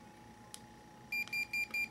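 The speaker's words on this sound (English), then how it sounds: "you'll hear it beep. That means your collar's on." A SportDog training collar switched on by its waterproof top button, giving four short electronic beeps in a steady rhythm after a soft click, close and clear over faint room hiss.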